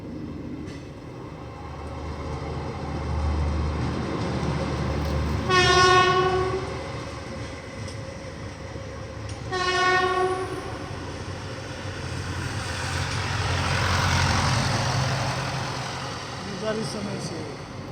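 Horn blasts from the Nandigram Express, Balharshah to CSMT Mumbai, at a junction. Two loud harmonic horn blasts sound at about six and ten seconds over steady rumbling rail noise, with people talking in the background.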